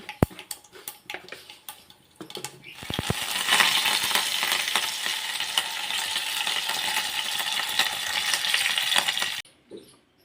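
Mustard seeds pop in hot oil for a tempering while dal dhokli is being made: a few scattered ticks, then a dense crackling sizzle for about six seconds that cuts off abruptly.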